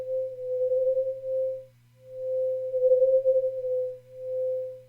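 Granular sine-wave grains from a Kyma GrainCloud with randomized durations form a steady mid-pitched tone that swells and dips in slow waves, with a brief gap near two seconds, alone and fairly quiet.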